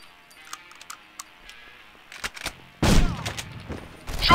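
Gunfire in the shooter video game Contract J.A.C.K.: a few faint clicks and short shots early on, then a loud, dense burst of fire from about 2.8 seconds, a brief pause and another loud burst at the very end.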